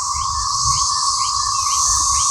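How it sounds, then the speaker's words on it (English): Cicadas in the American South drone steadily in a dense, shrill buzz with faint pulsing, loud and continuous with no voices. "why did they let these cicada bugs out"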